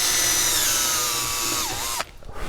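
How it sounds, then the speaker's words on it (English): A power drill with a 1/8 inch bit whines steadily as it bores into wood, its pitch sagging under load near the end before cutting off abruptly, leaving quiet handling noise. "I'm going to take my little drill bit and drill about"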